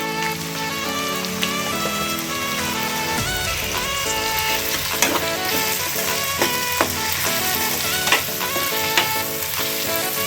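Capsicum and tomato masala curry sizzles steadily in the pan as a handful of coriander goes in, with tuneful background music playing over the frying throughout.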